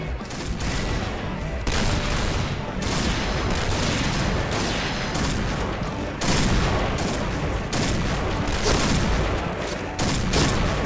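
Dense gunfire from the online shooter game Point Blank, including Barrett sniper rifle shots, pounds continuously in loud overlapping bursts with a few short breaks, close and harsh throughout.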